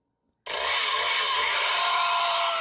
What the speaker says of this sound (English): He'll save you with his chainsaw, Dr. Salvador!